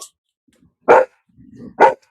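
A dog barks twice nearby, two sharp, separate barks about a second apart with a soft whine between them, in an otherwise quiet indoor setting.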